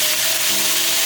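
Cured fish sizzles and scrapes as it is stir-fried in a wok, giving a steady, close, bright hiss with a rough rubbing texture throughout, with no voices.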